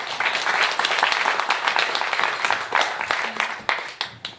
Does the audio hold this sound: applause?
yes